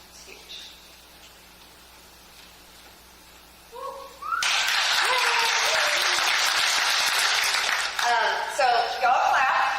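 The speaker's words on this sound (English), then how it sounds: "So y'all clap, and that's great." An audience at a regional company meeting bursts into loud, sustained clapping after a quiet stretch, with scattered voices in the hall.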